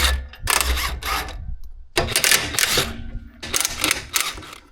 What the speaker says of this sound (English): I don't want to take it off altogether, I'm just trying to loosen it.